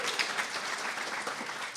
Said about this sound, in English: So Beth, a round of applause, absolutely.